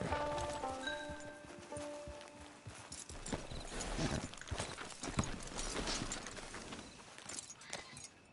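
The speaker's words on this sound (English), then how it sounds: "Get your horse." Horse hooves clip-clop steadily and fairly close on ground in Red Dead Redemption 2 Online, with a few brief tonal notes from the game at the start.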